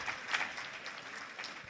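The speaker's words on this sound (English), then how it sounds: "Please continue clapping." Applause from a conference audience at an annual society meeting, fairly faint and distant, a steady patter of clapping with a few sharper peaks.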